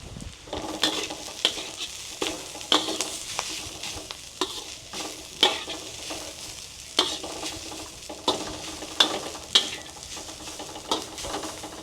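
Banana flower and grated coconut with turmeric sizzle and crackle in a hot pan with repeated scraping stirs, a steady frying hiss with rhythmic spatula strokes, close up, no voices.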